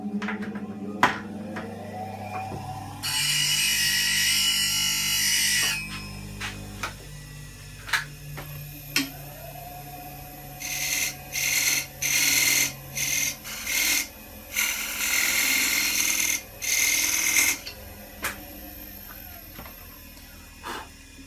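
A turned wooden box lid is forced onto its tenon while spinning on a lathe, giving bursts of raspy rubbing and squeaking friction, loud and close, with short pauses between pushes.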